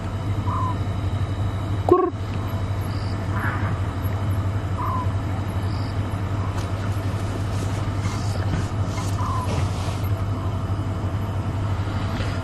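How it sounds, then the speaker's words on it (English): African scops owls call at dusk near a water hole on a sunset drive at Djuma, Arathusa, giving faint, short, widely spaced notes over a steady low hum and background hiss. "African scops owls are beginning to call."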